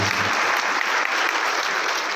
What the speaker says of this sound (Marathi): टाळ्या वाजवून आपण त्याचं स्वागत करूया।